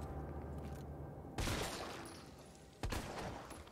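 Two loud bursts of gunfire in the video game Resident Evil 3, each a sharp crack with a short decaying tail, separated by a quieter stretch of low rumbling ambience.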